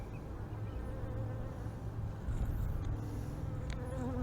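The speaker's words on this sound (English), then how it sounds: "Look out, bees." Honeybees swarm around brood frames being lifted from a Layens hive, a dense, continuous buzzing hum close by that swells slightly partway through.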